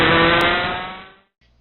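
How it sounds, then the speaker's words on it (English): Racing go-kart engine at full throttle on a club circuit corner exit, a loud, steady high-revving drone that holds strong before dropping away and cutting off near the end, leaving faint low rumble. "you can start to roll full throttle through this corner and drive off the exit"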